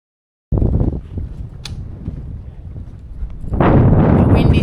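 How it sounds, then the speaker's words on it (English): Strong wind roars and buffets the microphone aboard a sailboat, starting abruptly and building to a louder, steady gust toward the end. "The wind is definitely up today"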